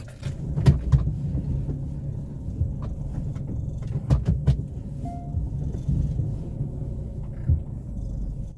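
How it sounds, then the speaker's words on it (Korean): A Kia Ray car turns around and drives on a rough track near a coastal forest in Taean. The engine and road rumble run low and steady throughout, with a few knocks and rattles from the cabin. "이쪽에서 차를 돌려서 다시 포인트로 진입을 해보겠습니다"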